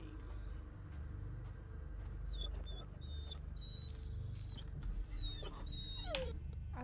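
A dog whimpers and yelps in the horror video game Blair Witch, with several high, thin whines rising and falling over a steady low ambient rumble, sharper cries toward the end.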